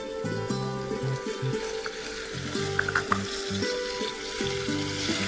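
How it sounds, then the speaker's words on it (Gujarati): Chopped tomatoes go into a hot pan for Parsi dal, and a loud, close sizzle and crackle builds and holds through the stretch, with bits of stirring and a steady background hum and no speech. "હવે આપણે આની અંદર ઝીણા સમારેલા ટામેટા અડધો કપ એડ કરવાના છે."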